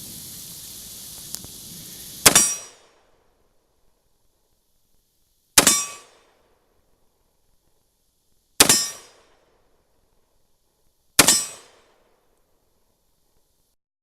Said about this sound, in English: Alright, we're ready to shoot again. One more shot.